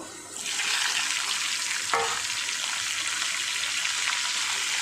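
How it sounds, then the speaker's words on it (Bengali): Yardlong beans hit hot oil with a sudden loud sizzle that swells into a continuous, bright crackling hiss close by, with one sharp spatter midway. "ওই তেলে বরবটিটা ভেজে নেব"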